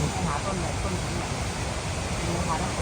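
Water from a waterfall in Ticino rushing in a dense, continuous roar, close and loud, steady throughout with no pauses.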